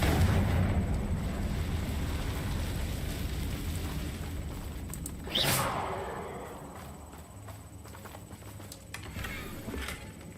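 Confringo spell blast in Hogwarts Legacy, a single whooshing burst near the middle rising out of a rumbling background, then fading with scattered crackles.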